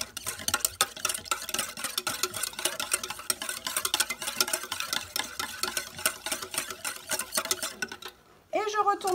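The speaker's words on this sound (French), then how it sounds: "Et je mélange en faisant des ronds." A spoon scrapes round and round through cake batter in a bowl in quick, steady circular strokes, close and continuous, before a voice briefly cuts in at the end.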